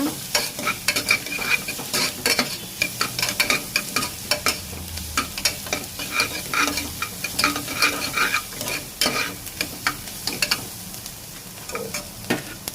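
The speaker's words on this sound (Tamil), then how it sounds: "வெங்காயத்தை நல்லா வணக்கி விட்டுக்கோங்க" Onions stirred and sautéed in a pan for sambar, a steady frying sizzle broken by repeated scraping stirs of a spoon against the pan, close and fairly loud with no talk.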